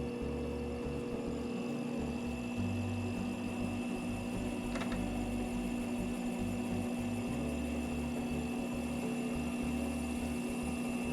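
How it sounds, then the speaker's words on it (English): Faceting machine cutting soft fluorite on a 3000 grit lap, a steady mechanical whir and hum with a constant tonal drone and low rumble running throughout, fairly quiet and without speech. "I can easily cut with a 3000 grit lap, no problem at all"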